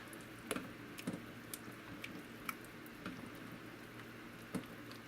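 Swedish meatballs are stirred in a crock pot, giving quiet, wet squishing and a few soft clinks, scattered irregularly over a faint background hiss.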